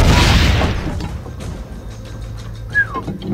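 A cannon fires in Assassin's Creed Brotherhood: a loud booming blast opens, then decays into a rumbling tail with faint clicks and a brief whistling tone.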